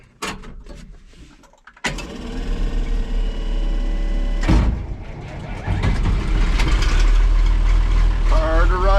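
A 1973 tractor's engine cranks and catches after a refuel, settling into a loud, steady idle close by, with a voice speaking briefly over the running engine.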